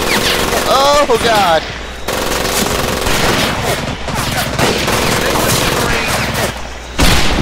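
Sustained machine-gun bursts and rapid gunfire in the Medal of Honor Pacific Assault game crackle loudly and close across the whole stretch, broken by short gaps, with someone shouting over the shooting.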